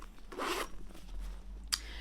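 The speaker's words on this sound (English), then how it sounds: "Yeah, you can see here, it's got another zipper." A zipper is pulled on a compartment of a luxury shopping bag, with one quick rasping run followed by a brief sharp snag, close and quiet.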